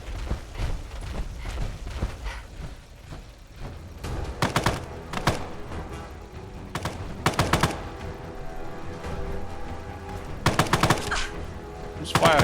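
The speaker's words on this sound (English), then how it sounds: "Who's firing?" Rapid bursts of automatic gunfire in a post-apocalyptic survival video game, loud sharp volleys at intervals with softer shots between, no voices.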